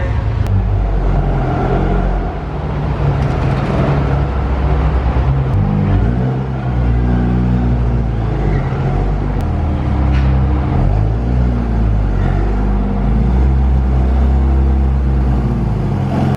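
A wide-body Porsche sports car driving inside a shopping mall, its engine rumbling and revving steadily and loudly throughout with no talk.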